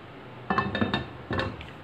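A pan set down for shallow frying meatballs, giving a couple of sharp metallic clinks and knocks close by, followed by a quieter spell with a little handling noise.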